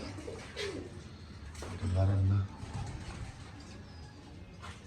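Pigeons in a loft built for about 200 birds give a deep, loud cooing burst close by in the middle, set against softer background rustle and faint bird sounds.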